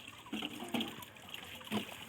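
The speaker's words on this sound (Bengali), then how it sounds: "কাকিমা জল ভরছে।" Water trickling and splashing as it is filled into a container at a village gathering, faint and intermittent with a few brief splashes, no clear talk.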